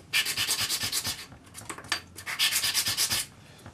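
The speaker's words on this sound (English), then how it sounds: "take a piece of sandpaper, put it on your bench, and sand the sides" A metal ring is rubbed back and forth across a sheet of sandpaper laid on a workbench, giving steady, close rasping strokes in two rhythmic bursts separated by a short lull.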